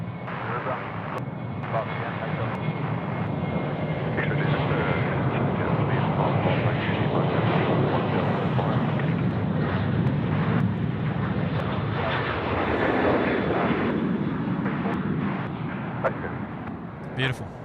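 Velocity airliner taking off from runway 34 right at Sydney Airport, a loud, steady roar of jet engines building and holding through the roll before easing slightly, with people talking over it.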